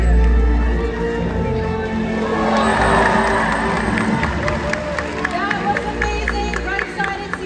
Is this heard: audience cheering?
yes